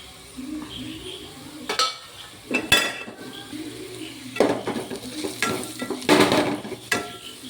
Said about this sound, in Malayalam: ഇതും കൂടി നന്നായിട്ടൊന്ന് ഇളക്കി കൊടുക്കാം ഈ പൊടികളുടെ പച്ചമണം മാറുന്ന വരെ ഒന്നും കൂടി നന്നായിട്ട് ഇളക്കണം